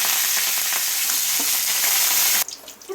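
Curry leaves and dried chillies sizzle loudly in hot oil as a tempering for cucumber chutney, a dense continuous frying hiss close by that cuts off abruptly near the end.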